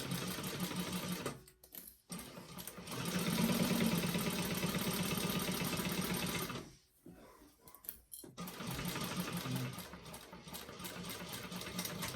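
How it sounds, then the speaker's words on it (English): A sewing machine running in close, fast motor-driven bursts while stitching down a quarter-inch seam on a handmade bag, stopping briefly twice before starting again. "we're going to sew down that seam with 1/4 of an inch seam allowance"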